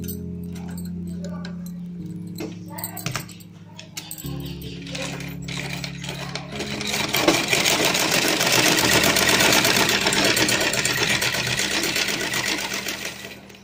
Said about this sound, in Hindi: सबसे पहले हम आसन सिल लेंगे